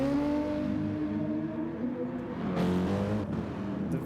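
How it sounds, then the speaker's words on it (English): A BMW M6 V8 in a racing video game at Sardegna road track, a steady sustained engine drone with layered harmonics, revving higher around the middle, loud and continuous with no talk. "The V8 from the BMW M6."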